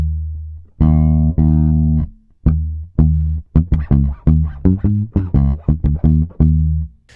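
Bass guitar groove in a funk fingerstyle, short staccato notes damped by left-hand fingers, a tight choppy rhythm of clipped plucks played alone.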